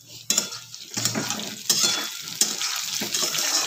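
Onions and potatoes fry in a pan, giving a steady sizzle broken by several sharp scraping and clattering strokes of a stirring utensil against the metal.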